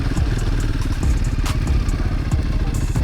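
A Kove 450 or Royal Enfield Himalayan motorcycle engine runs steadily up close off-road, with a rough, rumbling low drone and some rattling clatter, no clear rise in revs.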